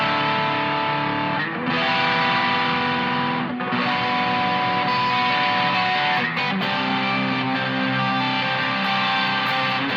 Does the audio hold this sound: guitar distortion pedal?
yes